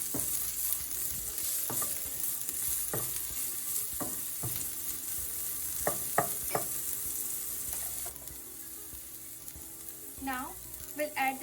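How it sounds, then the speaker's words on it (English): Onions sautéing in a pan with oil, a steady quiet sizzle broken by repeated scrapes and knocks of a stirring spoon, with the sizzle dropping lower toward the end. "We'll saute the onions for 1 to 2 minutes."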